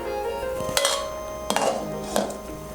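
Metal saucepan lids lift off pots of drained boiled vegetables, with three sharp clanks of metal spaced about a second apart in a quiet kitchen.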